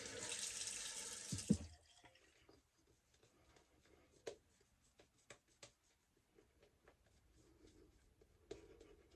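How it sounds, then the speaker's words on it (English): Water runs from a bathroom tap for just over a second to wet a shaving brush, a loud close gush that stops abruptly, followed by quiet scattered taps and brushing sounds. "I'll just add a little bit more water to the brush."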